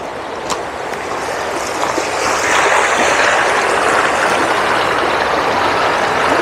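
Mountain stream water rushing steadily near a waterfall in Creede, Colorado, a broad continuous wash of flowing water that swells slightly louder partway through, close and fairly loud with no voices.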